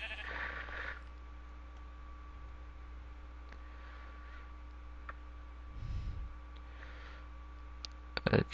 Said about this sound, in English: Oh, those are sheep.